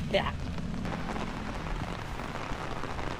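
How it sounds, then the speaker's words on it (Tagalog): Heavy rain pours steadily on an outdoor walk, a dense, even hiss of drops striking surfaces that continues without pause throughout, with a brief higher sound near the start. "Lakas ng ulan!"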